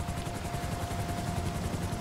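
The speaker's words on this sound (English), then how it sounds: "get in the chopper." Helicopter in Grand Theft Auto V, a steady, close rotor chop with rapid even thumping and a constant engine whine, continuous and fairly loud, no talk.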